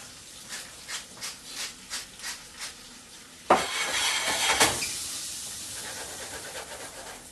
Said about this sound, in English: So my butter's foaming.